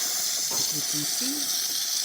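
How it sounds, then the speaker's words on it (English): The steam wand of a Jura Impressa J9 coffee machine gives a steady, loud hiss just after a service tune-up, with brief faint gurgling tones partway through. "steaming properly the way it's supposed to"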